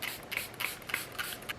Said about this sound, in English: we're gonna go back in with a setting spray for the last time.